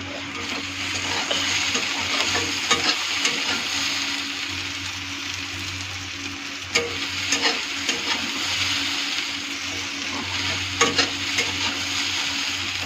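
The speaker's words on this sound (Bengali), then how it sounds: "গ্যাস স্লো করে একটু ভাজা ভাজা করবো।" Potatoes fry in a pan over low gas while being stirred, a steady close sizzle with scraping stir strokes and occasional clicks of the spoon against the pan throughout.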